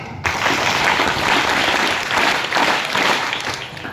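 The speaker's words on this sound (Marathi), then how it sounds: "पुन्हा एकदा जोरदार टाळ्या" An audience at a public gathering in a school setting breaks into loud, dense applause that starts suddenly and carries on steadily at full strength for several seconds, close and with no talking over it.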